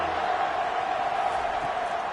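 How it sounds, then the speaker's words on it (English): Stadium crowd at a football game roaring steadily behind the defense on third down, a dense sustained swell of cheering with no breaks. "Decibels rising as the crowd gets behind this defense on third down"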